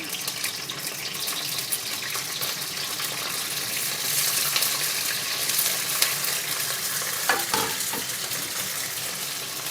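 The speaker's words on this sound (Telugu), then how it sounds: "కొంచెం ఆయిల్ వేసుకోవాలి పచ్చిమిర్చిని వేసుకొని వేయించుకోవాలి" Green chillies frying in hot oil in a kadai, a dense steady sizzle with light stirring, close and continuous throughout.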